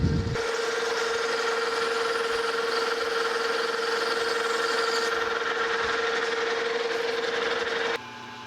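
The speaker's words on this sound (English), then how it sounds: "I'm gonna speed this lathe up a little bit more" A metal lathe spins at raised speed while machining. It gives a steady, loud motor hum with a constant whine, unbroken for several seconds, before the level suddenly drops near the end.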